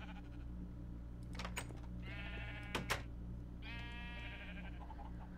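Orange sheep in a modded Minecraft world bleat two or three times, nasal wavering calls over a low steady background hum, with a couple of brief clicks between them.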